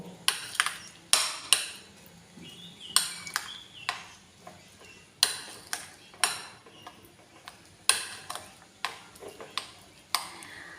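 Soft roti and mashed banana baby food stirred together in a bowl, with sharp spoon clinks against the bowl in irregular bursts over quiet background, close and alone.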